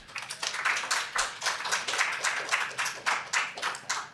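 Clapping from attendees at a city council voting meeting, a moderate, uneven patter of several people's hands in a row of quick strikes, fairly quiet and steady without talk.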